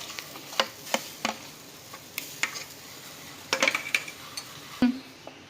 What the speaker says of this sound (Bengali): আমটা আমরা কড়ার মধ্যে দিয়ে দিলাম।